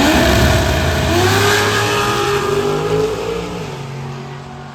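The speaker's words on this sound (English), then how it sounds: "high rev and LT motor in that Corvette" A Corvette with a high-revving LT V8 screams at full throttle on a drag strip at the Snowbird Nationals, loud and close, its pitch climbing through gears with a steady whine before easing off.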